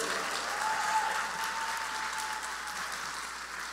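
A church congregation applauds for Jesus at a worship service, sustained crowd clapping filling the room steadily and evenly from start to finish.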